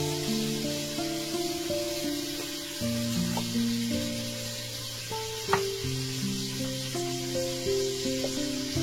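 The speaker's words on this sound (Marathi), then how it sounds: "चांगलं परतून घेऊया" Coconut paste (vatan) with asafoetida sizzles steadily in hot oil in a home kitchen, a continuous close frying hiss with a few stirring knocks over a faint background hum.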